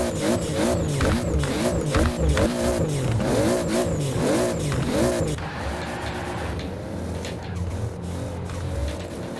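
Toyota 2JZ-powered car in the racing game Forza Horizon 4, its engine loudly revving in repeated rising and falling sweeps for about five seconds, then settling into a steadier, rougher drone with sharp transient crackles.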